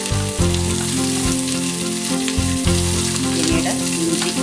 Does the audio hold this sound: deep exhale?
no